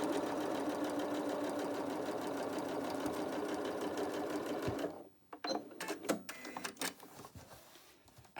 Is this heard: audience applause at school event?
no